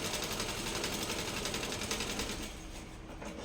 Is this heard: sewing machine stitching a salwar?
yes